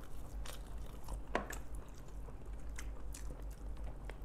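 Close-up chewing of mutton biryani with rice, with soft, faint crunchy bites and wet mastication sounds repeating steadily at a quiet level over a low background hum.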